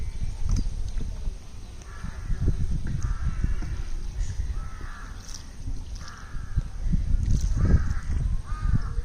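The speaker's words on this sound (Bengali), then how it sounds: "প্রচুর পাখির কোলাহল" Crows caw repeatedly over a dense clamor of many birds near a village waterside, with a steady low rumble of background noise throughout.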